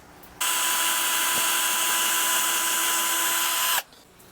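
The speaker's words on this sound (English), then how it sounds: "There's my 2 holes for the locking nut drilled in." An electric drill with a 2mm bit bores holes for a guitar's locking nut, giving one loud, steady high whine that starts abruptly and stops sharply after about three seconds.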